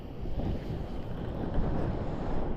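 Chilly outdoor wind buffets a microphone with a steady, loud, low rumbling roar that surges slightly but never lets up, with no voices.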